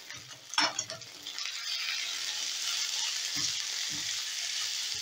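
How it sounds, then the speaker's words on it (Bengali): Chopped onions and green chillies frying in hot oil, a loud steady sizzle that swells after an initial clatter of stirring, with a few soft knocks of a utensil near the end. "এবারে ওই তেলেই আমি পেঁয়াজ ভেজে নেব।"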